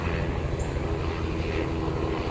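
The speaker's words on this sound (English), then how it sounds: "Not an airplane, a helicopter." A helicopter flies overhead, its steady low rotor and engine rumble filling the background as a continuous broadband drone with no talk.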